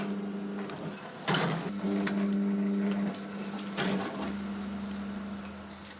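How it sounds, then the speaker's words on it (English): A custom-built farm machine trims grapevine roots to length, giving a steady tonal motor drone with sharp cutting bursts at intervals, close and alone. "I built this machine especially. It's a quick way of getting the roots the right length and looking neat."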